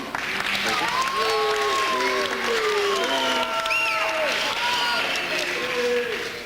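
Student council assembly audience applauding a vice-presidential candidate: steady clapping from a crowd fills the whole stretch, with voices and shouts rising over it.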